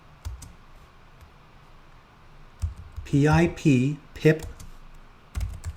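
Fingers tap out a command on a computer keyboard in a few quick clusters of sharp clicks and key presses, heard close up while a person speaks over them.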